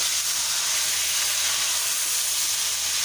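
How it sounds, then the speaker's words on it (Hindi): Chicken frying in hot oil for a korma, a loud, steady hiss and sizzle holding evenly throughout, close up with no voices. "क्योंकि हमने फ्राई करना है चिकन को"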